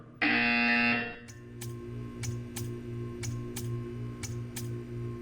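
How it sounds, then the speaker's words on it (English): A loud, steady electronic buzzer from the video game Portal 2 blares for about a second, then gives way to a quieter run of regular clicking ticks over a low hum. "You will hear a buzzer."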